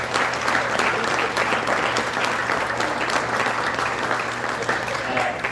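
An audience at a sports awards banquet applauds: dense, steady clapping from a full room that fills the whole stretch with no break.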